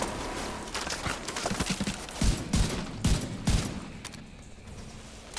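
Bursts of M1A rifle fire in The Division 2, several sharp close shots in quick succession mixed with other gunfire and busy game noise.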